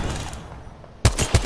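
Video game gunfire crackles in a short, close burst of shots during a tense multiplayer endgame, preceded by a muffled, noisy stretch.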